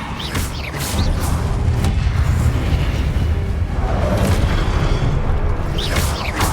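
Confringo spell explosion in Hogwarts Legacy, a loud booming blast with a sustained rumbling roar lasting several seconds, bracketed by brief magical whooshes at the start and end.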